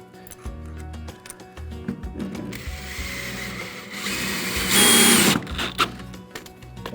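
Bolts are tightened with a ratcheting tool while a metal raised garden bed is put together, giving quick clicking runs, then a louder sustained whir of driving near the end, close by with no speech.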